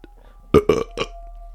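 A cartoonish burp sound effect plays in the video game The House in Fata Morgana. Three or four short, loud belches follow one another in quick succession, with a faint tone lingering underneath.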